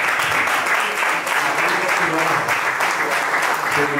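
An audience at a flamenco club claps strongly and continuously for a live singing and guitar performance, with a voice speaking over the sustained applause.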